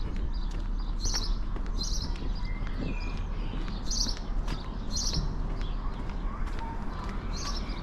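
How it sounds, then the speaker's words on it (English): Birds sing outdoors on a Liverpool street near Penny Lane, repeated high chirping phrases at a steady rhythm heard over constant traffic and street rumble, with occasional footsteps. "It's a lovely day, the birds are singing or tweeting."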